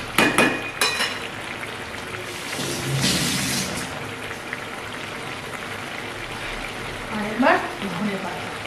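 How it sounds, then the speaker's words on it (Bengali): Tapse fish frying in oil in a pan: a steady, rain-like crackling sizzle runs throughout, close and moderate, with a few louder spatters and a voice speaking over it at times. "হালকা করে মাছগুলো একটুখানি ভালো করে ভেজে নিতে হবে"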